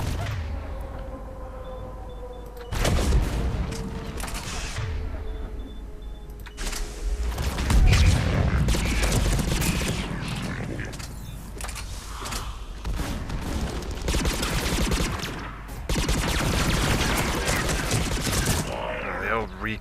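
Geth plasma assault rifle fire in Mass Effect 3, a recoilless alien weapon, with bursts of rapid gunfire and mechanical whirs during a firefight on Thessia, loud and sustained, with game voices and a player talking in places.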